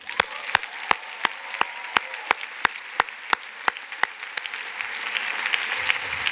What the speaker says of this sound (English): give yourselves a loud round of applause for becoming your ancestors' wildest dreams